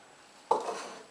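A gas cylinder clicks and scrapes as it is screwed onto a Jetboil Sol Ti titanium camping stove, one sharp metallic contact followed by a short grinding twist, close and fairly quiet.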